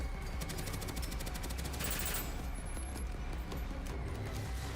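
An automatic gun in the video game Deadzone: Rogue fires a rapid rattling burst of shots over a dense, loud game soundscape, then keeps a busy mechanical clatter going after the burst ends.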